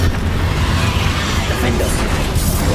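Confringo and Bombarda spells in the Hogwarts Legacy video game produce a dense, loud stretch of booming blasts and rumbling debris, with a voice briefly heard underneath.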